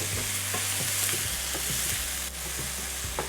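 Tomatoes fry in a hot pan for tortilla soup, giving a steady loud sizzle broken by repeated scraping stirs, with no talking.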